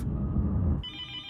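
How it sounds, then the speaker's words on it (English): A telephone ringing: a brief electronic ring enters after a burst of low rumble, clear and close, with no talk over it. "and then the phone rang"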